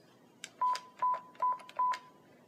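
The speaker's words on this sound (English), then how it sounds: "Enter the time in 12-hour format." Four steady, evenly spaced DTMF beeps with short clicks between them as digits are keyed on an NEC XEN DTU business phone handset, close and clear with no voices.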